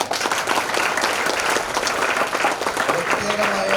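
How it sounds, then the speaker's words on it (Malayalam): Loud, sustained applause from an audience honouring students at a school felicitation ceremony in Azhikode, a dense wash of clapping running the full length with a voice faintly audible underneath. "എല്ലാവരും ഒരു നല്ല കൈയടി കൊടുത്തേ"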